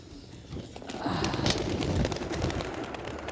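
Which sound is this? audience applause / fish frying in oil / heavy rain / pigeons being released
pigeons being released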